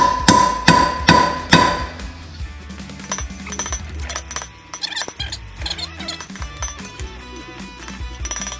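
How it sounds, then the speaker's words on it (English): Three loud ringing hammer strikes on a wheel bearing race of a 1992 Dodge truck, followed by lighter clinks and scraping taps close by. "if you're not hammering on the race, you're not going to get it to go anywhere"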